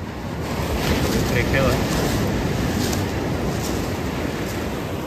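Large waves wash steadily onto a beach of coral pebbles and gravel at Pasir Ganting, Pesisir Selatan, making a continuous loud rushing roar with wind noise on the microphone.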